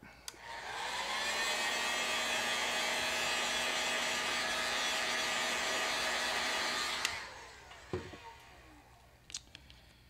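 A heat tool blowing hot air to set paint on a chrome crappie fishing lure, a steady whirring roar that runs for about seven seconds, then shuts off, followed by a few light clicks and handling taps.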